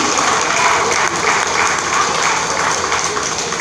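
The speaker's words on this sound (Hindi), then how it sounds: "जोरदार तालियां" Loud, sustained applause from an audience at an NGO gathering, a dense wash of clapping that runs unbroken through the whole stretch.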